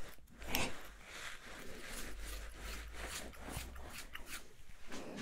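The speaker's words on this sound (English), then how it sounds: "I know how to use scissors." Scissors are handled close to the microphone in a whispery sleep-themed setting, giving soft metallic snips, scrapes and rustles in an irregular, quiet stream.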